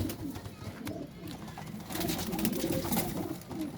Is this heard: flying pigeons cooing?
yes